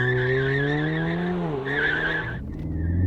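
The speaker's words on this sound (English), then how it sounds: "A little bit of wheel slip, but properly stuck into it, into second as well" A Ford Focus ST launches hard, the engine droning loudly and climbing in pitch through first gear, then dropping as the gear changes and pulling again, with a thin squeal of slight wheel slip.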